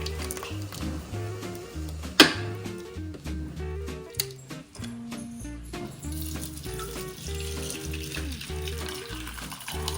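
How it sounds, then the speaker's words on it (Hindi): Hot water is strained off freshly curdled chhena for homemade gulab jamun, pouring and splashing under loud background music with a few sharp clatters. "अब हम इसको गैस को करेंगे बंद और इसको छानेंगे ताकि हमारे पास छेना छेना रह जाए और इसका पानी है वो एक तरफ निकल जाए।"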